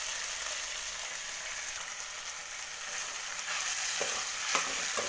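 Grated coconut frying in a pan for chicken sambar, with a steady soft sizzle and occasional scraping stir strokes growing slightly louder toward the end.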